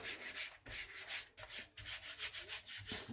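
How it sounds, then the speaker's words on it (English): Paper smoothed down by hand into wet glue while covering a lapbook, giving a series of close, soft rhythmic rubbing strokes with no talk. "And then we're just going to smooth this down into the glue."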